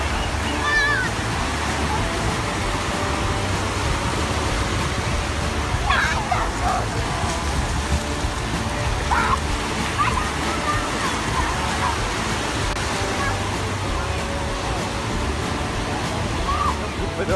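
Ocean surf at Tybee Island beach makes a constant loud wash of breaking waves, with faint voices of people on the beach in the background.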